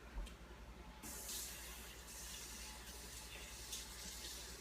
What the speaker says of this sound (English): So let me just get a jar full of water.